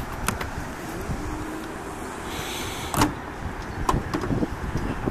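Power trunk lid on a 2008 Mercedes S550 running through its automatic cycle, a low motor whir with a latch clunk near the middle and another thump toward the end, heard close with no talking.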